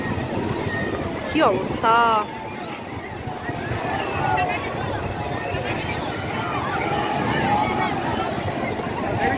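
Sea waves washing up on Puri beach, a broad steady surf rush with wind buffeting the microphone, as a person talks over it and briefly exclaims.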